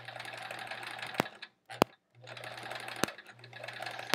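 Sewing machine stitching quilt fabric pieces, a steady mechanical whir running in bursts with a low hum, stopping briefly twice, with sharp clicks between runs; close and moderately loud, no talking.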